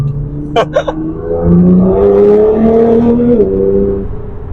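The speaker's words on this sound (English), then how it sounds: "little pushes here and there, just so you can hear the noise of that engine" A Stage 4.25 tuned Nissan GT-R R35 with a 740 bhp V6 accelerates on a public road, its engine note rising and holding loud from the cabin, with brief voice sounds near the start.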